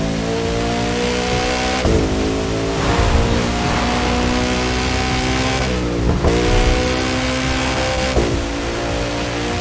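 A Koenigsegg Jesko hypercar in the racing game The Crew 2, its engine roaring loudly at high revs and climbing steadily in pitch through repeated gear shifts, with a brief dip at each shift.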